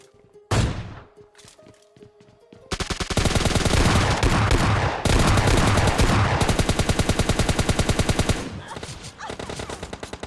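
Gunfire in a PUBG Mobile Lite match: after a few sharp single shots, long loud bursts of rapid automatic fire rattle almost continuously, pausing briefly between bursts.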